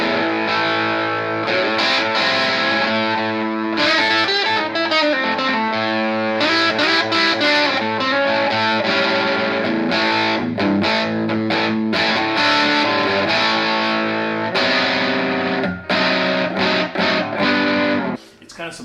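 Electric guitar played through a $20 Joyo US Dream distortion pedal, loud, saturated chords and riffs ringing continuously with a thick, gritty sustain, dropping briefly near the end.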